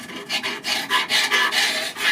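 Old gasket adhesive being scraped off a kamado grill, a close, steady rasping in repeated strokes with brief pauses between them and no talking.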